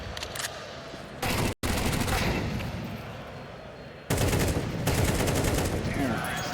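Dense, loud gunfire in Counter-Strike 2 on the Inferno map, with rapid automatic bursts of shots that continue almost unbroken and pause only briefly as the player shoots the last two enemies.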